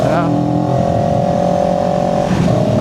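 A CFMOTO CLX 700 motorcycle in eco mode pulling hard in third gear, a loud, steady engine drone that rises slightly in pitch, with a voice talking over it.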